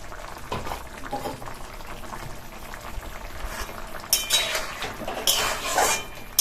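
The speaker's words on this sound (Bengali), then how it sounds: "নাড়ানাড়ি করে দিলাম" Potatoes stirred in a cooking pan with a little water and poppy seed paste rinse, giving scraping, clattering utensil-on-metal sounds with louder bursts of clinking near the end, against a steady background.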